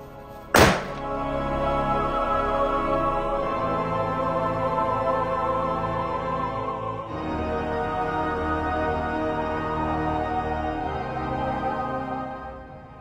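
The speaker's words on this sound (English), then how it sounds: "that little crucible was no match for that reaction. It was literally blown to bits." Phosphorus and potassium chlorate flash powder ignites in a small crucible on a ring stand behind a blast shield, giving one sharp, loud bang near the start that shatters the crucible, followed by a steady tonal musical bed with no talking.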